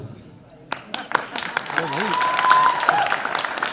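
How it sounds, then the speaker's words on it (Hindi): Audience applause building at a book launch during a birthday celebration in Mumbai, scattered claps swelling into a dense sustained ovation, with a voice and a brief tonal sound heard over it. "जोरदार तालियां"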